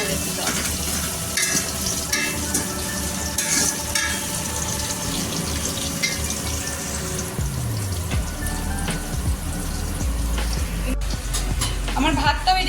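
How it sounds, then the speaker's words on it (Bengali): Onions sizzling in hot oil while being stirred, with steady frying crackle and occasional scraping of a spoon against the pan, under a voice speaking in Bengali nearby. "বেরেস্তা করতে গেলে বারংবার পেঁয়াজটাকে একটু নাড়িয়ে যেতে হবে"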